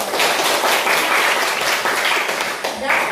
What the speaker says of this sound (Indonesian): Tepuk tangan dulu supaya biar